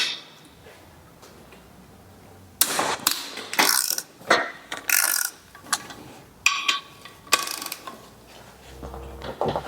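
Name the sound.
unbolting cylinder head of a PureTech engine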